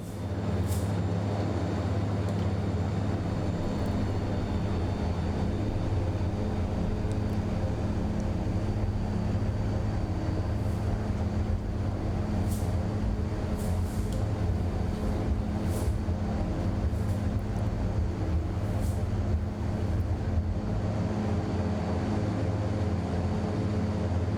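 NAMC YS-11 turboprop engines at full takeoff power in MSFS 2024, giving a steady, loud, dense drone with strong low harmonic hum that holds constant throughout with no talking.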